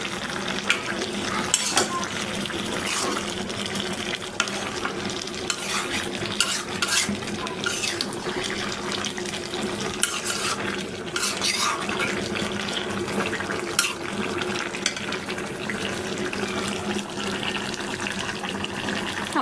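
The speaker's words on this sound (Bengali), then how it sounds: "আমার লাউ সিদ্ধ হয়ে গেছে, এখন আমি মাছটা দিয়ে দিচ্ছি।" Ayre fish pieces go into a pot of boiled bottle gourd, a dense continuous bubbling and watery simmer filling the clip with scattered light stirring clinks.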